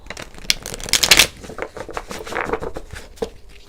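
Tarot cards being shuffled to draw clarifier cards, a run of quick papery riffles and soft slaps with a denser flurry near the middle, close and moderately loud, with no talking.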